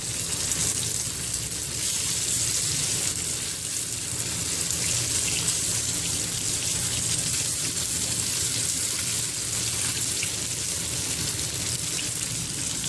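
Manchurian balls frying in a pan of oil, a steady dense sizzle running unbroken and fairly loud throughout with no talking over it.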